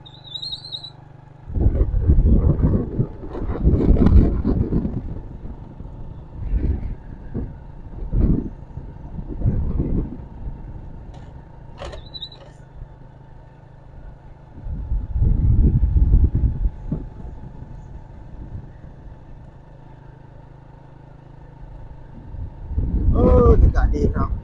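Gusts of wind buffet the microphone outdoors during a motorcycle ride through countryside, coming in heavy low rumbling bursts that rise and fade repeatedly under a steady engine drone, with a person talking intermittently.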